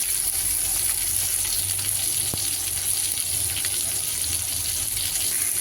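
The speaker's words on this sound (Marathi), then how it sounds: "छान असं स्लो फ्लेमवरती फ्राय करणार आहोत। अशा प्रकारे दोन्ही साईडने फ्राय करून घेणार आहे।" Bangda mackerel pieces fry slowly in a pan over a low flame, giving a steady, even sizzle with a faint high hiss and one brief tap, no speech.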